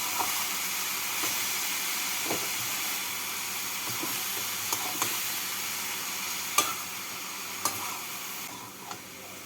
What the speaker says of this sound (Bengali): এবার এর মধ্যে শাকগুলোকে দিয়ে দেবো শাকগুলোকে দিয়ে একটু নাড়াচাড়া করে নিচ্ছি